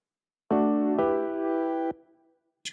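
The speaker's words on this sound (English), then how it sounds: "And then a mellotron" A soloed mellotron part from a studio mix plays three sustained, full chords struck in a steady row and then cut off. A short bright blip follows near the end.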